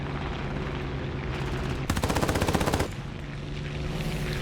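A fighter plane's machine guns fire in War Thunder, the air battle game, as one rapid, loud, close burst of about a second over a steady engine drone that keeps going before and after.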